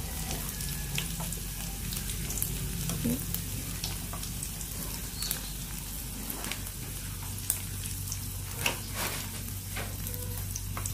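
Steady oil sizzling and crackling as banana flowers fry in a pan, with occasional sharper pops over a continuous frying hiss.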